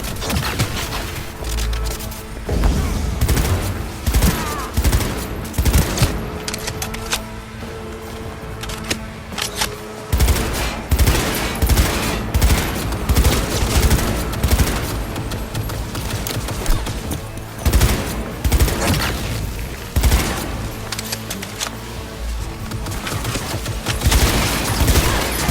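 Heavy firefight gunfire in Cyberpunk 2077, dense bursts of automatic and single shots with crashes and booms, loud and continuous for the whole stretch.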